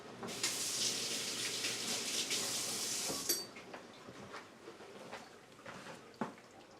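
Apple cider vinegar splashes into a pot of collard greens as a steady, bright pour for about three seconds, then a few soft clinks and small settling sounds follow.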